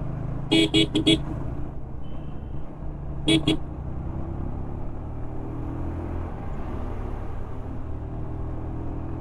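A bus on the NH6 highway sounds its horn from behind, two bursts of short toots, the first a quick triple blast and the second a double, over steady road rumble and wind from a moving motorbike.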